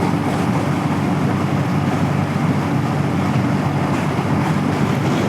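Continuous heavy wind buffeting while riding an Eclipse Hunter 350 motorcycle at highway speed on a breezy day in Texas, a loud, steady broadband roar filling the whole stretch without pause.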